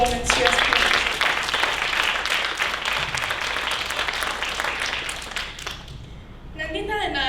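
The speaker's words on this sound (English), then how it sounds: "Can we all give Nanditha another round of applause for the outstanding performance she has presented?" Audience applause after a Bharatanatyam arangetram dance performance, a dense, steady wash of clapping from a full hall that carries for several seconds, then thins and fades as a voice begins speaking near the end.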